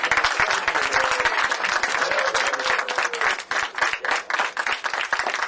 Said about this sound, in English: please join me again in a warm round of applause for our participants